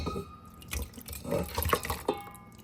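Water splashes and drips into a pot of oxtail bound for a pressure cooker, a short, quiet burst of uneven pouring and dripping with no voices.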